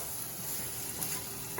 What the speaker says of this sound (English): All right, Eli, the sausage is almost brown.